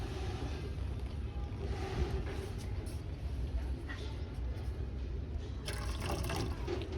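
Cold water runs and pours into a container of hot water, a steady, fairly quiet rushing and splashing that continues throughout, growing slightly brighter toward the end.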